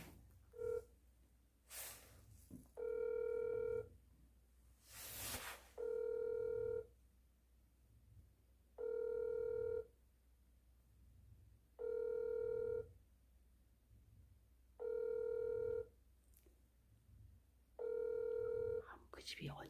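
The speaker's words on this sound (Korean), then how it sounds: "그래서 애인한테 전화하세요. 예, 지금 한번 해보도록 하겠습니다" Telephone ringback tone repeating about six times at steady intervals while a call is placed, with brief dialing and handling noise early on, heard from nearby.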